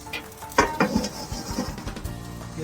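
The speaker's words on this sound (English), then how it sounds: "Get that sizzling and steaming in there to cook the top of those eggs for us." Eggs sizzle and steam on a hot griddle, with sharp clinks and scrapes of a metal utensil breaking through the crackle.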